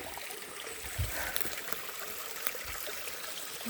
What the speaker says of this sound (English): Down by the creek.